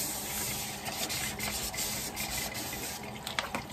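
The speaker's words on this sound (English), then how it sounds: "I am just sanding it to give my next layer of epoxy something to grip onto." Light hand sanding of a cured epoxy glitter layer, a soft continuous rubbing hiss close by with faint scratchy strokes and no talk.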